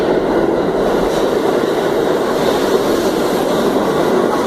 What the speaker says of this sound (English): Yeah, the train's coming, so it'll get noisy.